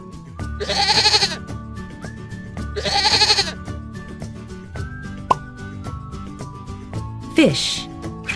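Two loud goat bleats come roughly two seconds apart, each a wavering nasal cry, set against light background music with a few plops and a rising whistle-like effect near the end.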